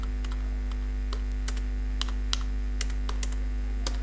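Keys clack in quick irregular bursts on a computer keyboard as code is typed, soft and close over a steady low electrical hum.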